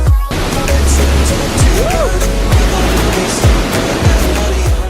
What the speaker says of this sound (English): so we can get to the other side of the waterfalls